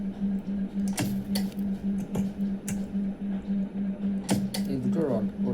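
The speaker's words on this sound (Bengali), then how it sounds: "সেটা ব্যাটারিটা স্পট ওল্ডিং হচ্ছে" Spot welding lithium battery cells in a battery workshop, sharp repeated snapping bursts at irregular intervals over a steady machine hum, with someone talking through the welds.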